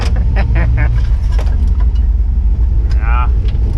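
An off-road vehicle crawls along a snowy trail after a storm. Its engine rumbles low and continuously, with brief rattles and clunks from the cabin, and voices can be heard now and then.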